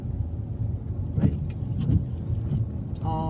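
Cars in backed-up traffic on a rainy workday evening give a steady, fairly loud road rumble with a few passing swishes and brief higher noises. No voices are heard.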